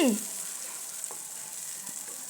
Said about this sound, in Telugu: ఉల్లిపాయ పేస్ట్ ఎంత బాగా ఉడుకుతుందో